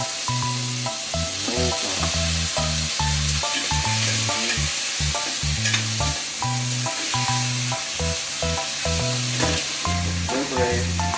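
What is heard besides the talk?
onions and tomatoes frying in a pan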